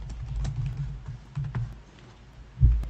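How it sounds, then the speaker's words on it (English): Typing on a computer keyboard comes in short irregular bursts of soft clicks, close by, ending with a heavier keystroke. "Sounds like he's typing it in right now."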